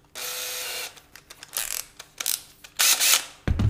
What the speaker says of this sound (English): Whack them in the vise.